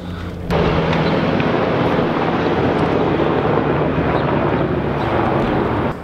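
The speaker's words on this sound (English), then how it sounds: "Twas but a helicopter." A helicopter passes overhead, a loud, steady broadband roar that swells in suddenly and holds for several seconds before cutting back, heard alone without speech.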